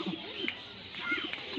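Native pigeon cooing, a few soft throaty coos close by against a quiet background, with a brief sharp chirp partway through.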